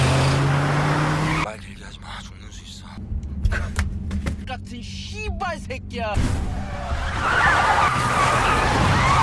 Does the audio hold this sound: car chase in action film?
yes